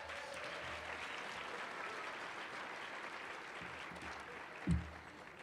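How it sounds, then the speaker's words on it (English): A Match Day audience at a medical school gives a steady round of applause, a broad wash of clapping from a large crowd heard at some distance, ending with a brief thump. "So if you guys could give her a round of applause."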